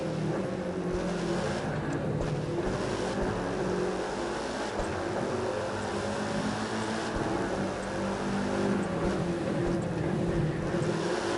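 A Mercedes SLS engine roars in The Crew 2 racing game, a continuous loud driving drone with steady revving and slight shifts in pitch, no speech over it.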